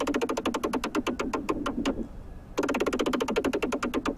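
A dubstep bass layer made in the Serum synth pulses in fast, evenly spaced rhythmic stabs, pausing for about half a second midway before the rapid pattern resumes, solo and fairly prominent.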